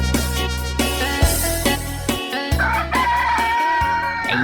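Fighting cock crowing repeatedly and loudly at close range, long drawn crows overlapping with other fowl calls in a busy farmyard, no talk.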